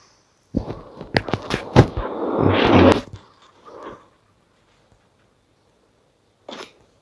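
A rapid burst of sharp, crackling video game gunshots for about two and a half seconds, then a softer pop and one more brief shot after a pause.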